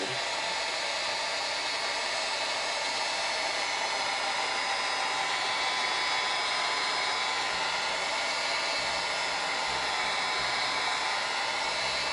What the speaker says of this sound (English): Heat gun, and this should peel.